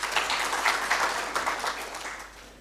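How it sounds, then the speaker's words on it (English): An audience at an annual convention session claps for the chairman, a short burst of applause that swells and then gradually fades. "A round of applause for Chairman."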